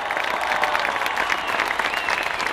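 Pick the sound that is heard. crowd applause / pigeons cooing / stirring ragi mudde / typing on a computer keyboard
crowd applause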